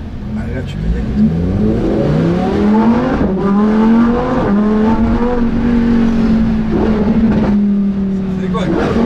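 A 640-horsepower Lamborghini Huracán STO sports car engine revs hard and climbs through rising gears, a loud close-up roar with repeated upshifts, while people talk over it.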